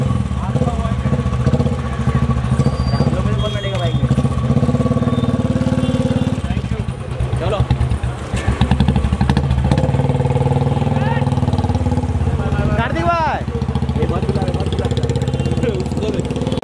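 A motorcycle engine idles steadily and close throughout a busy street scene in Bandra, with a crowd talking and shouting over the continuous low rumble.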